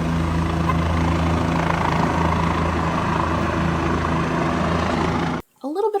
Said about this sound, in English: Chopper landed on the roof.